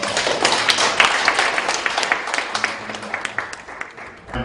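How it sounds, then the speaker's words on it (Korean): Applause from an audience at a lecture event, a dense patter of many hands clapping throughout, fairly close and steady, tapering slightly at the end. "큰 박수 한번 쳐주시면서"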